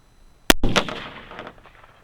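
One loud, sharp rifle shot from a 6.8 Western cartridge fired during velocity testing, followed by a long rolling echo that fades out over about a second and a half.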